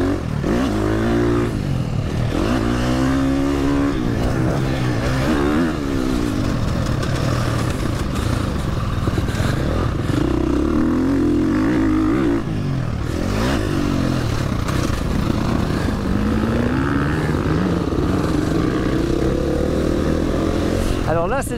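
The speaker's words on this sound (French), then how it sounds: "C'est l'essai de la moto de la Beta, c'est Team Motorsport qui faisait les essais de moto d'enduro." A Beta enduro motorcycle on a test ride keeps its engine running loud and close throughout, with the revs repeatedly rising and falling as it accelerates and eases off.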